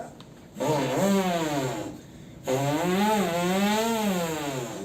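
A human voice imitates a chainsaw in two drawn-out buzzing, revving bursts, each rising and falling in pitch, close and fairly loud, with a short pause between them at a St. Nicholas celebration.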